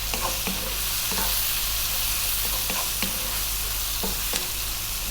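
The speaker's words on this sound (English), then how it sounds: "High heat, stir fry this around for about 4 to 5 minutes" Cabbage and tofu stir-frying over high heat in a hot pan with soy sauce and black pepper, a loud continuous sizzle broken by periodic scraping strokes of the spatula.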